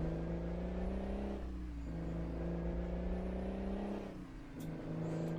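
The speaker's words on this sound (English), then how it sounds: "let's listen to this truck a minute" A Mack log truck idles and revs in American Truck Simulator, its steady diesel drone carrying low harmonic tones. The engine dips briefly around the middle and again near the end, then recovers, heard alone and up close without any talking.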